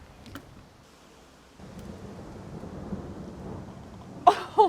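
Rain pours down steadily outdoors as a sudden thunderstorm rolls in, with a low rumble of thunder near the start and two sharper gusts or rumbles near the end, all without talk.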